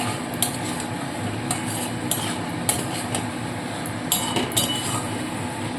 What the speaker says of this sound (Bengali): এইবার এই ভেজে রাখা আলুগুলোকে সম্পূর্ণ এর মধ্যে দিয়ে দিচ্ছি মশলার সাথে খুব ভালো করে মিশিয়ে নিতে হবে